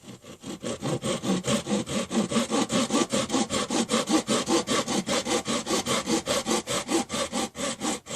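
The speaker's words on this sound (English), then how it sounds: "All I've got to do is flush the dowel up with the end of the piece of wood and cut it." A hand saw cuts a wooden dowel flush with the end of a piece of wood in fast, regular back-and-forth strokes, loud and close, the rasping rhythm continuing steadily throughout.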